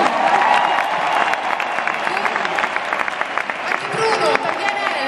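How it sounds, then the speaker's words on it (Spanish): A concert crowd in Madrid applauds a musician, a dense, continuous wash of clapping and cheering that fills the arena, with voices mixed into the roar throughout. "un aplauso muy fuerte"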